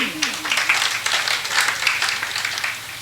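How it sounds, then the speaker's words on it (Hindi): A congregation at a Jain sermon in Kishangarh claps in a quick, uneven burst of applause, close and fairly loud, with a short vocal sound near the start. "ये ताली बजाने किसने सिखाया आपको?"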